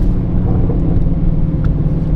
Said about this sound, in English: Some nasty downshifts.